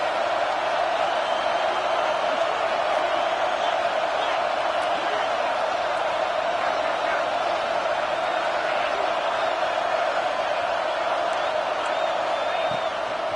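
Football stadium crowd roaring on a third down, a steady, dense wall of massed voices that holds loud and even throughout with no break.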